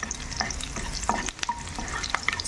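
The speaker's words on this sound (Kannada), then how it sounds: "ಸುಲಿದುಕೊಂಡ ಬೆಳ್ಳುಳ್ಳಿಯನ್ನು ಹಾಕಿಕೊಳ್ಳಬೇಕು ಮತ್ತು ಬೆಳ್ಳುಳ್ಳಿಯನ್ನು ಚೆನ್ನಾಗಿ ಫ್ರೈ ಮಾಡಿಕೊಳ್ಳಬೇಕು" Peeled garlic fries in a pan for a dill leaves stir fry, with a close crackling sizzle and scraping stirring strokes across a short stretch.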